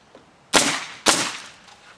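A Bostitch RN46-1 pneumatic roofing nail gun drives nails into asphalt shingles, firing two sharp, loud bursts about half a second apart, each trailing off quickly in a quiet setting.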